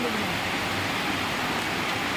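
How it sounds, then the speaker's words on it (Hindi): Heavy rain pours steadily in a forest, a dense, constant hiss of water striking leaves and ground all around, with no pauses. "फिर बहुत तेज़ बारिश है।"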